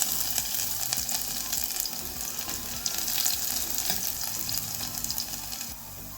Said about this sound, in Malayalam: ഇതിലേക്ക് 4 വെളുത്തുള്ളി കട്ട് ചെയ്തത് ഇട്ട് കൊടുക്കാം